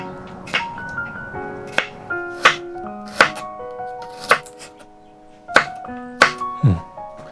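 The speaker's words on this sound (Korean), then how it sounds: "마늘은 다 썰었고" A knife chops garlic on a cutting board in separate sharp knocks with irregular gaps, over soft background music.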